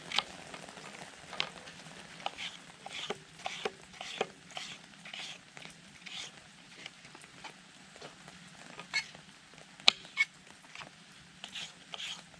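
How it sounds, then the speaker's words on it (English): Rain patters steadily around a campfire, with scattered soft taps and drips over a low, continuous wash, close by and fairly faint, with no voices. "Lovely just sitting here listening to the rain, isn't it?"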